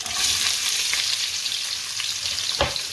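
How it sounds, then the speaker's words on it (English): Onion sizzling and frying in a pan with whole garam masala spices, including black cardamom, a steady close hiss of hot oil with light stirring scrapes and one sharper knock near the end. "Just saute the onion for about 2 to 3 minutes."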